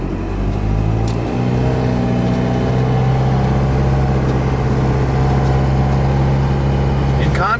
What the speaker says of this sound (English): Power band is a little sluggish until that turbo starts to spool up